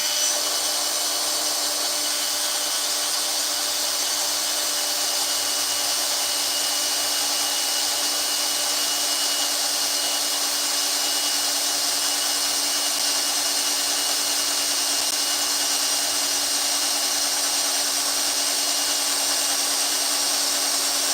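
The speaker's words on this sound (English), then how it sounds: "I don't want to, you know, go askew and then accidentally drill into the other side of the hosel." A drill boring out a pin in the hosel of a hickory golf club, a continuous high whine held steady and fairly loud for the whole stretch with no talk.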